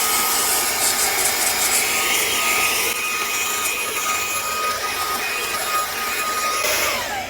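A small brushless mini blower hisses and whirs steadily up close, rasping air across a vacuum's dusty top with faint rubbing and shifting tones, without voices.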